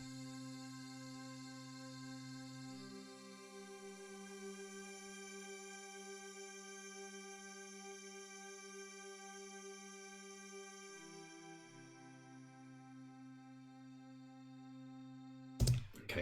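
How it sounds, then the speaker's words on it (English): Sustained synth pad sample playing back in Ableton across an 8-bar section, steady chord tones that shift pitch around the third and eleventh seconds, ending in a brief click. "it's just sort of a pad sample"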